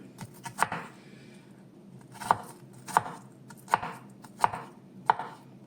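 Onion chopped with a knife on a board, a series of about eight sharp separate knocks at an uneven pace, close and clear over a quiet background.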